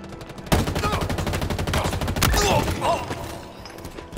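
Rapid automatic gunfire from the Halo Infinite video game, loud sustained bursts of closely spaced shots rattling continuously, with someone talking briefly over the shooting.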